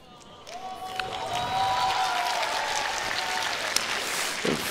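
Audience applause at a dance competition during an anime festival, a broad steady wash of clapping that swells in and holds throughout, with a faint tonal sweep and some crowd noise mixed in.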